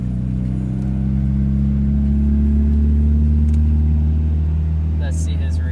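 A Mazda Miata pulls up with a steady, loud, low engine drone that holds evenly throughout, close by, with a faint thin sound near the end.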